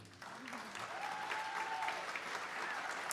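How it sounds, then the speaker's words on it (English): Audience applause at a songwriters show, steady clapping across the whole stretch at moderate level, with a voice briefly heard over it. "Clap your hands. I want to hear you."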